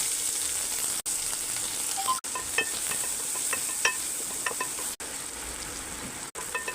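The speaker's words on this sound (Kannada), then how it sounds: "ಕಡಾಯಿಗೆ ಇವಾಗ ಗಾರ್ಲಿಕ್ ಹಾಕೊಳ್ಳೋಣ, ಚಿಕ್ಕ ಚಿಕ್ಕದಾಗಿ ಮಾಡಿರೋ ಪೀಸು. ಒಂದು ಸ್ವಲ್ಪ ಫ್ರೈ ಆದಮೇಲೆ ಅದಕ್ಕೆ ಒಂದು ಆನಿಯನ್ ಹಾಕೊಳ್ಳೋಣ." Chopped garlic and onion fry in a hot kadai for a prawn tomato gravy, giving a steady close sizzle that runs throughout, with a few sharp clicks and stirring taps.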